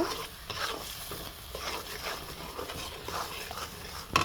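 Spice paste with turmeric and salt sautéing in a pan, a faint continuous sizzle with soft scraping stirs throughout and a brief clatter near the end.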